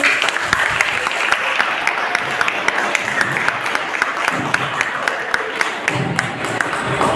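Children clap steadily at a school felicitation ceremony honouring a teacher during an educational materials distribution event, a dense, sustained round of applause from a crowd with no voices standing out.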